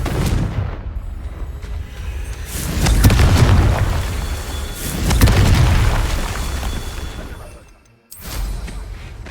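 Confringo spell explosions in the Hogwarts Legacy video game sound as a series of deep, rumbling booms that swell and fade over several seconds, loud and close, ending in a brief drop before a final blast.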